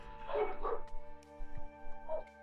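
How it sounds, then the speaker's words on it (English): A pet dog barks nearby, a few soft yips and barks in short bursts over a steady background hum, not very loud. "Oh, you can hear my dog, sorry."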